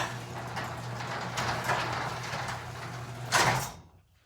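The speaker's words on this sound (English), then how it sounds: "Grandma's house is a Chamberlain model 248735 garage door opener." A Chamberlain 248735 garage door opener closes a home garage door with a steady motor hum and rattle. A louder clunk near the end marks the door shutting, then silence.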